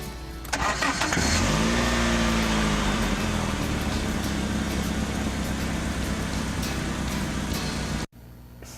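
A car engine cranks and catches, then holds a loud, steady mid-pitched roar with a rising drone for several seconds before cutting off abruptly, heard close during a test drive at the 2013 Buffalo Auto Show.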